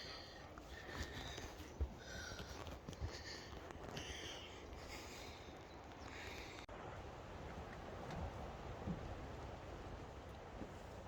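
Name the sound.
rain falling at a camp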